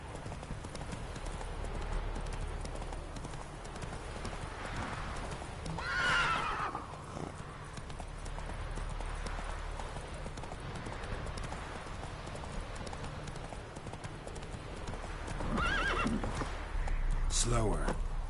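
Roach the horse in the video game The Witcher 3: Wild Hunt gallops with steady clip-clop hoofbeats and gives two loud neighs, one early and one near the end, while someone speaks over it.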